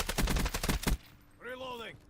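Rapid bursts of automatic gunfire in a video game, about eight sharp shots in quick succession, then a short electronic tone with no talking.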